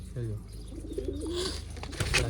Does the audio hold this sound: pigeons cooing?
yes